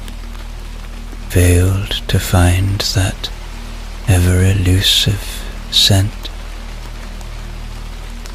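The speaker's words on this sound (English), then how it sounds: "The rain tapped on the windows" Steady rain patters against windows on a rainy Edinburgh evening, a soft continuous hiss running beneath a calm voice narrating throughout.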